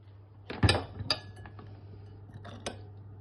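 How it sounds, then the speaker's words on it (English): Vegetables tossed with oil, red chili and balsamic vinegar in a bowl for a vegetable pasta, giving a few close clinks and scrapes of a utensil against the bowl, two louder knocks early and a softer one near the end. "Mix it all up and coat the veggies in this."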